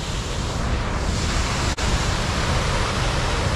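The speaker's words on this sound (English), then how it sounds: "I can actually feel the waterfall" A waterfall on Iceland's Golden Circle roars as a loud, unbroken broadband rush, heard from a distance with wind buffeting the microphone and one brief dropout midway.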